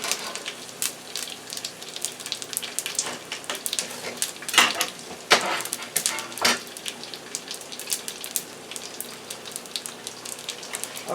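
Garlic and herb dough frying in hot oil, a steady crackling sizzle with dense popping spatters and occasional louder bursts, close and continuous with no talking.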